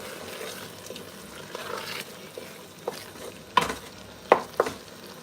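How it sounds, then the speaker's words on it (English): Jollof rice stew base frying in a pot, a soft steady sizzle with a few sharp stirring clinks and scrapes near the end, close and alone. "Then we're going to just allow this to continue frying for the"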